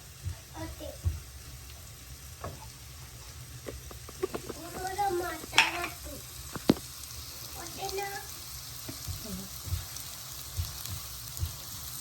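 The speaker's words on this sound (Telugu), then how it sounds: "సో ఆనియన్ అయితే ఇట్లా మంచిగా ఫ్రై అవుతుంది." Chopped onions frying in a pan in a home kitchen, giving a steady crackling sizzle that runs through the whole stretch, with someone talking over it.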